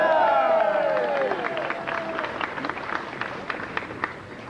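Audience applause at a Hollywood Walk of Fame star ceremony for Ray Harryhausen, a steady outdoor round of clapping with crowd murmur, tapering gradually toward the end while a tonal sound fades out early.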